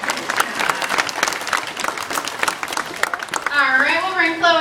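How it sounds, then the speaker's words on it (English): Zoo audience applause at a sea lion show at the Memphis Zoo: a dense, steady burst of crowd clapping that fills the first few seconds, then fades as a voice starts speaking. "See if she can get a round of applause there."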